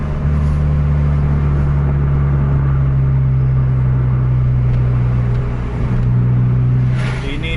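A bus engine rumbling steadily while driving on a busy road past midnight, a loud, continuous low drone with a steady hum and slight shifts in pitch, traffic noise around it and no pauses.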